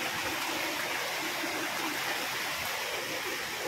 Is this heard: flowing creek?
yes